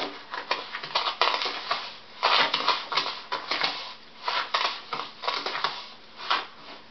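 A spoon stirs a sugar, salt and tea scrub with olive oil in a bowl, producing close, gritty scraping and crunching strokes in an uneven rhythm, with short pauses between bursts.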